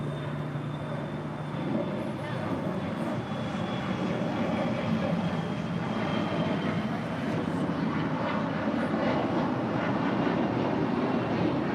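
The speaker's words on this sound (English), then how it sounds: "We got a glimpse of American 137 coming in from London Heathrow on a 777-300ER." American Airlines Boeing 777-300ER arriving from London Heathrow at LAX, a broad sustained jet roar rising gradually in strength over several seconds, moderately loud and steady.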